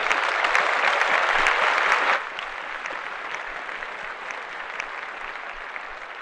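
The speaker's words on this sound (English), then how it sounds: "Clap that up." A live crowd claps in a loud, dense burst for about two seconds, then the applause drops to a quieter, steady patter that continues to the end.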